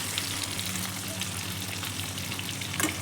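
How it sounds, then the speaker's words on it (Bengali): Green chilli, nigella seeds and onion sizzle in leftover fish-frying oil, a steady close crackle of hot oil running throughout with a brief sharper spatter near the end. "ওই মাছ ভাজার ওই তেলেই আমি ফোড়ন দিয়ে দিলাম কাঁচা লঙ্কা, কালো জিরে ও পেঁয়াজ"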